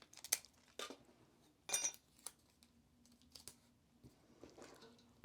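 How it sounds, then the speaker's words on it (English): Adhesive tape being pulled and pressed down onto a paper sewing pattern for a wedding dress, with soft crinkling rustles and a few brief tearing bursts, quiet and close. "I'm going to tape that down."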